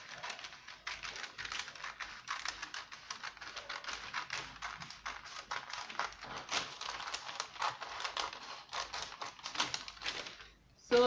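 Scissors snip steadily through fabric for one sleeve of an off-shoulder bustier, making a long run of quick, close, crisp cuts that stop near the end.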